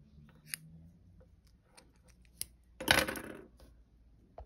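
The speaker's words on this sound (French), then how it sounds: "j'ai coupé mes petits fils qui étaient passés" Scissors snip through crochet yarn threads in one crisp cut of about half a second, close and alone, with a couple of faint ticks before it in a quiet room.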